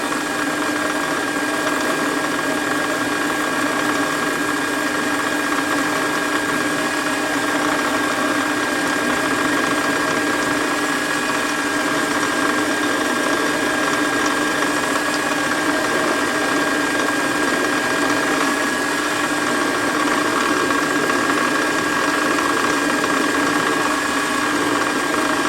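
A WARCO lathe runs steadily while machining part of a shop-made quick change tool post, giving a continuous mechanical hum and whine with a faint knocking texture, close by and unbroken, with no talk.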